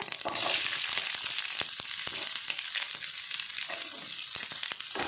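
Garlic, curry leaves and onion frying in a pan for a Tulu-style basale sukka give a loud, crackling sizzle, with sharp pops and stirring scrapes scattered over a continuous hiss and no talking.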